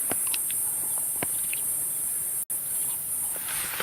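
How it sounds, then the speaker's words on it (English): A cicada calls at dusk in the African bush, a constant high-pitched shrill buzz running steadily throughout, broken only by a momentary dropout, with faint scattered insect clicks and chirps beneath it. "That's a cicada."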